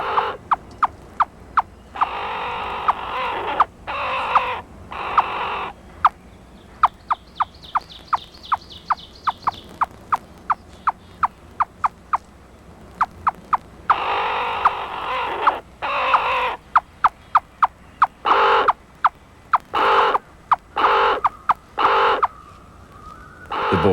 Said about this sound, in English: One summer, a friend of Dan's gave him a pet baby crow.